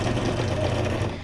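A sewing machine stitching through paper, a fast, even mechanical chatter of needle strokes, close and loud, running steadily for about a second before tapering.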